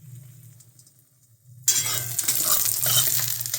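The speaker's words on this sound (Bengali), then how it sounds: "এই যে অমলেট বানাচ্ছি বন্ধুরা।" An omelette fries in a pan for a home-cooked lunch: a quiet stretch with a low hum gives way to a sudden loud, steady sizzle that crackles on to the end, with no talking.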